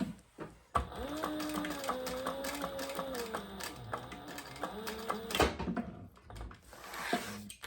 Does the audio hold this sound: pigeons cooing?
no